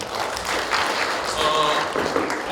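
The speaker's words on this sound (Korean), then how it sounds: "박수 한번 주시죠" Audience applause at a Korean youth policy forum, a steady wash of many hands clapping for a couple of seconds with faint voices underneath.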